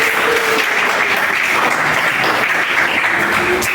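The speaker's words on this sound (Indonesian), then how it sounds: "Tepuk tangan untuk kita." A classroom group of students and teachers claps together in a dense, steady burst of applause that stays even and loud from start to finish.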